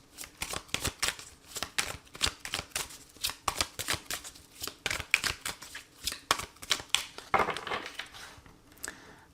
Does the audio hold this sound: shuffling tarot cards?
yes